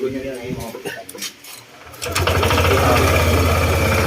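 A Honda PCX160 scooter engine starts at about two seconds and keeps running at a steady, busy idle, following a stretch of talk in the first half.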